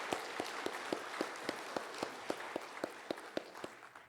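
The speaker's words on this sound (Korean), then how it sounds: "다시 한번 큰 박수로 한번 격려할까요?" A church congregation applauds the choir after a worship song, producing steady, evenly spaced claps at a fairly low level with no voices over them.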